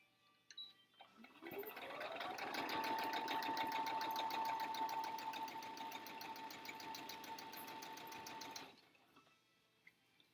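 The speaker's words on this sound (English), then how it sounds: "I just stop the needle periodically to make sure that my fabric is lined up." A sewing machine stitches fabric for a face mask in one steady, close whirring run of rapid needle strokes lasting several seconds, starting and stopping cleanly, with no talk.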